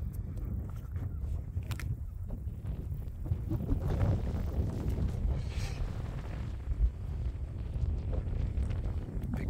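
Wind on a walk through the nature reserve at Rye in East Sussex, a low, rumbling buffet against the microphone that swells and eases steadily, with faint rustles and possible footsteps beneath.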